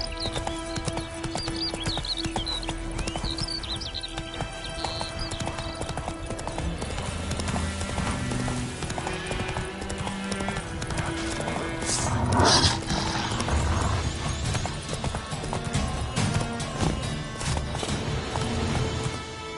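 Hooves of the horse Roach clip-clop steadily in The Witcher video game, a continuous rhythmic gait under busy game music and ambience, with a louder burst of activity midway.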